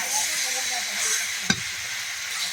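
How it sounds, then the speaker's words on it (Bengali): Green chillies fry with onions in a pan, giving an even, close hiss and sizzle with one sharp knock midway. "কাঁচা লঙ্কা পেঁয়াজের সঙ্গে ভাজা ভাজা হয়ে গিয়েছে।"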